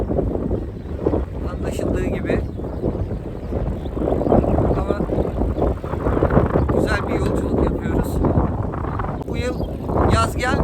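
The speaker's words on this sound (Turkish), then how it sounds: "Rüzgar var yine." Steady wind roars and buffets the microphone during a bicycle tour, with someone speaking briefly over the rushing noise.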